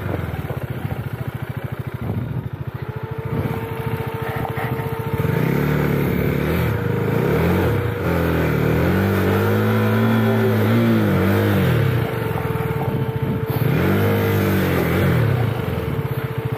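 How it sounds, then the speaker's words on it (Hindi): A motorbike engine labours up a rough, broken hill track, its note droning steadily and then surging in repeated strained revs as the rider pushes it up the climb, close and loud throughout with no talking. "थोड़ा बाइक मुश्किल हो रही है चढ़ाने में"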